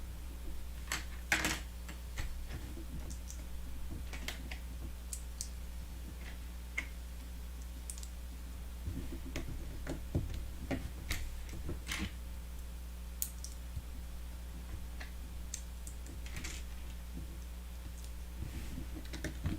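Small plastic Lego pieces from the Typewriter 21327 set click together during building, giving faint, sparse, sharp taps scattered over a low steady hum, close and quiet, with no talking.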